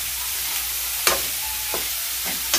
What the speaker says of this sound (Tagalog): Ginigisa na natin muna.